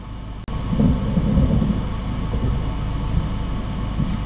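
Thunder from a Florida thunderstorm rolls as a long, deep, steady rumble, loud and continuous after a brief cut near the start, with no voices.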